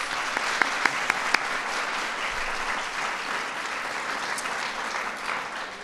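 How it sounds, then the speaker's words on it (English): A crowd at the Kids' State Dinner claps steadily in warm, sustained applause, a dense patter of many hands with no voices. "So let's give them a round of applause."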